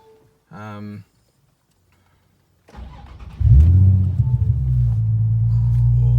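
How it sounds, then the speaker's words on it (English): A Nissan 350Z HR, fitted with a new clutch, flywheel and concentric slave cylinder, cranks and catches on a cold start, then settles into a loud, rumbling high idle. A brief voice comes before the start. "So just fire the car up, because it might be a cold start, which is always a little bit of fun."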